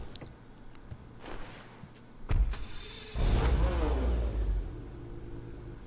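A Lampadati Tigon sports car in GTA Online starts up, with a sharp burst followed by a loud engine rev that rises and falls before settling into a steady idle rumble.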